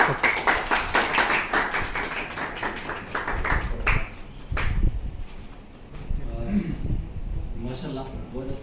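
Dense clapping from a crowd fills the first few seconds, then fades as a voice begins talking over scattered claps and room noise.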